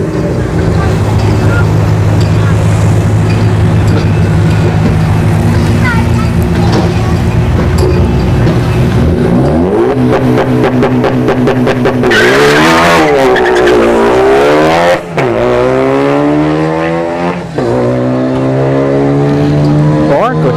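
A Ford Focus makes a drag strip run at ShowTime Dragstrip, its loud engine roaring and then winding up through rising revs with gear changes, near and dominant for the whole stretch.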